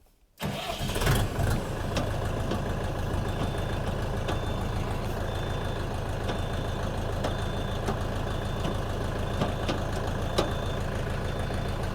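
A DTZ 5404 mini tractor engine cranks and catches within the first second, then settles into a steady, loud diesel idle that runs unbroken for the rest of the clip, with no talking.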